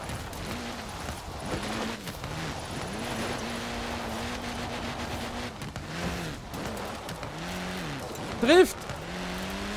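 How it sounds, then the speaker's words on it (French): A car drifting in Forza Horizon 4, its engine revving and wavering up and down through repeated slides with a sharp squeal near the end, while someone talks in French over it. "Drift."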